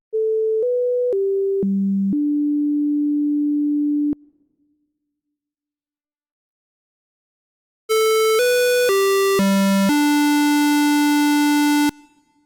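Steady pure sine wave tones step through a short sequence of pitches, stop for a few seconds of silence, then the sequence repeats as a brighter, buzzier square wave.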